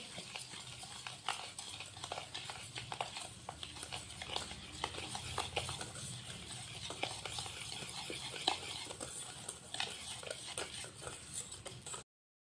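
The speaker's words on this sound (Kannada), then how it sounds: "ಮಿಕ್ಸ್ ಮಾಡ್ಕೊಳ್ಳೋಣ ಚೆನ್ನಾಗಿ ಗಂಟಿಲ್ಲದೆ ಇರೋ ಥರ ನೀಟಾಗಿ ಮಿಕ್ಸ್ ಮಾಡ್ಕೋಬೇಕು" Chocolate burfi mixture of milk powder and sugar being stirred by hand with a spoon in a kitchen, giving a steady run of soft scraping and clinking strokes at moderate level.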